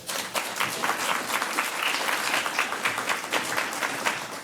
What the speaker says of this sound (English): One more round of applause for Bill and Michele and Maegan for being here today